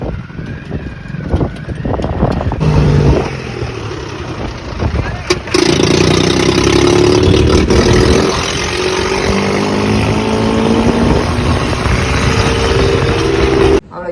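A loud Mahindra tractor engine rumbles nearby, catching and then running steadily with a droning hum, with brief talk early on.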